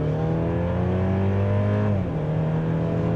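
A 2023 Mercedes-Benz GLC 300 4Matic with a 4-cylinder engine launching hard from a standstill after brake torquing, its loud, steady engine drone rising in pitch before a clear gear shift drops it, then climbing again.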